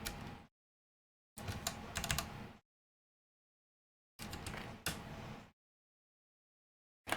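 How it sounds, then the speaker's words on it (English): Typing in separate bursts on a mechanical keyboard with unlubed 78 gram Zealios V2 switches, a close, dense clatter of keystrokes, with silent gaps between the runs. "these are unlubed 78 gram Zealios. So they're gonna sound like unlubed 78 gram Zealios"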